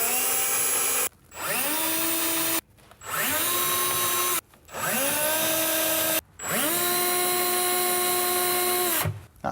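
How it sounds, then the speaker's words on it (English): A power drill bores pilot holes for screws in a larder unit fitting, four separate loud whirring bursts, each spinning up in pitch and held for a second or two, with short silent gaps between them. "put your pilot holes in place for your screws on all of the red spots"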